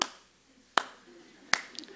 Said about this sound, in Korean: 박수 치는 것도 싫어서 손가락 박수 하잖아요